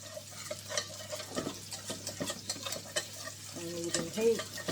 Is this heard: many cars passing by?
no